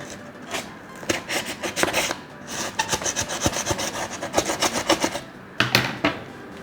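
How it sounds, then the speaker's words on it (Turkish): Scissors scrape and rasp rapidly against a freshly drilled hole in a wall to widen it for a porcelain cable fitting, close and loud in uneven bursts with brief pauses. "Biraz makasla genişletelim."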